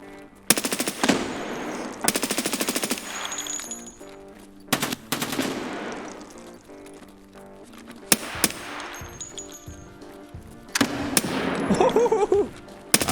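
Bursts of rapid automatic gunfire crack out in several separate volleys during a video game battle with grenades thrown, with quieter clanks and rumbling between them, loud and close.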